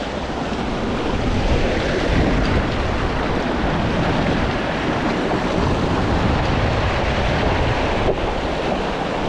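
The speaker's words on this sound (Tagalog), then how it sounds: "Lakas ang agos oh. Ganyan po pag high tide dyan sa kabila." Strong high-tide water current rushes past at close range, making a loud, steady roar of flowing water mixed with heavy wind buffeting on the microphone.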